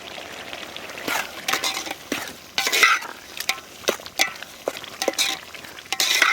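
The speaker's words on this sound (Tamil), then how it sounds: "அப்புறம் அரைச்சி வச்ச அந்த சோம்பு அந்த வகைகள் எல்லாத்தையும் அரைச்சி நம்ம அதில் கொட்டிக்கலாம்" Ground fennel spice paste tipped into a pan of frying Chettinad chicken gravy and stirred, close scraping stirs and clinks over a light sizzle, in uneven bursts throughout.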